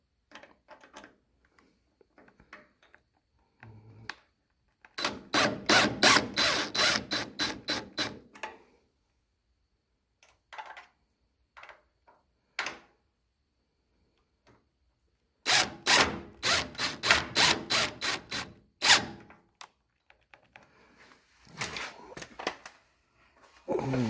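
Ratchet loosening screws on an Eleanor Mustang nose panel, heard as two close, fast bursts of repeated clicking separated by quiet gaps and a few scattered taps.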